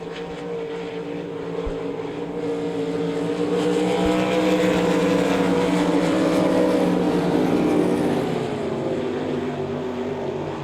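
Race cars roaring around the oval at Devil's Bowl Speedway, a continuous loud engine drone that swells as the pack passes down the back straightaway, with no voices.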